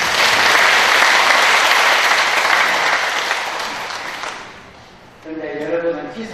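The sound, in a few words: applause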